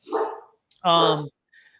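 A dog gives a few close, loud barks, including one sharp yip and one longer, full bark, with short silent gaps between them.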